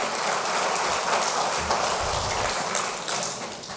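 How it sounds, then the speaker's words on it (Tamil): An audience in a hall applauds together, a dense, steady wash of many hands clapping at constant volume for a few seconds, close and full without any voices over it. "அசோசியேஷன் பிரதிநிதிகளுக்கு ஒரு அரங்கம் நிறைந்த கைத்தட்டுகளை நம்ம முதல்ல தரணும்"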